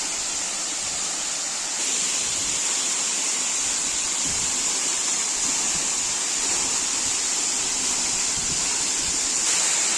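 Rainy-season waterfall dropping from a great height, a steady, dense roar of falling water heard throughout without any voices.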